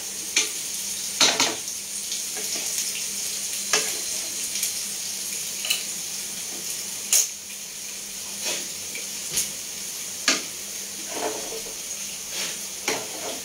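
Beef curry with black pepper stirred and sautéed in a pan, a continuous sizzle under repeated spatula scrapes and knocks at irregular intervals, close and fairly loud, with no voices.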